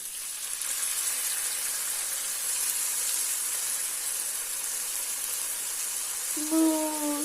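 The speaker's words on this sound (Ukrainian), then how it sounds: "Хай шкварчить." Constant sizzling hiss of water frying in a hot pan with bacon and cabbage, with a brief tonal squeak near the end.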